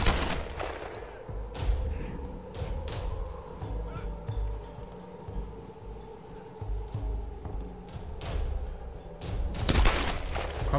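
Gunfire in the Tomb Raider video game rings out in repeated sharp shots and bursts over a low ambient bed, with a loud crack near the end; no one speaks.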